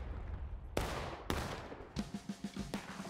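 Musket volleys in the Civil War game War of Rights: two sharp, loud volleys a half-second apart, then a ragged string of quicker, fainter shots, heard from a distance.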